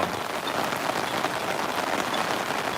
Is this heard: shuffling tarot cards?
no